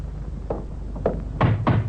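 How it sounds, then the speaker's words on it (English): Knocks on a door as a radio drama sound effect: four soft, distinct raps in an uneven rhythm, close by, with no voices over them. "Suppose we knock on her door."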